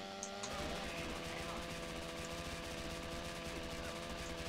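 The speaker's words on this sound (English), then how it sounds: "There's cops shooting me" Police gunfire in GTA San Andreas: a steady, dense stream of game-engine shots and clatter under a continuous mechanical hum, loud and unbroken for the whole stretch with no voices.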